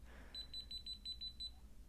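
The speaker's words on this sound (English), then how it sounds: "Red is live and it beeps" A Kaiweets KM601 digital multimeter's non-contact voltage detector gives a rapid series of about eight short, high, clear beeps at a steady rhythm, close by and moderately loud over a low background hum.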